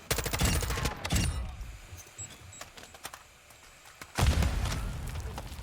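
Rapid bursts of automatic gunfire in Call of Duty DMZ, dense crackling volleys at the start, a quieter stretch of scattered shots, then another loud sustained burst near the end.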